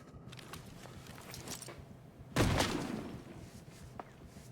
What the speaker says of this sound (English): we toss a grenade to see if we can bait them out